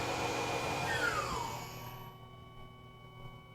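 A CNC machine spindle whines at full speed, 5140 RPM, cutting wood without coolant at 10 inches per minute, a steady high hum with a falling tone as the cut eases off.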